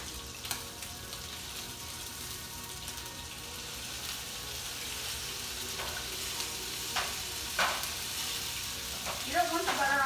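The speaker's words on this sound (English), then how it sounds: "You can hear it sizzling." Butter and fresh lime juice sizzle in a hot pan for stuffed chicken, a steady frying hiss with occasional sharper pops and clinks of utensils throughout.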